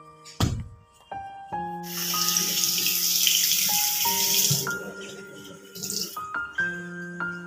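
Water gushes from a tap in a steady stream after a clatter, with tonal squeaks and clinks around it and faint background sounds.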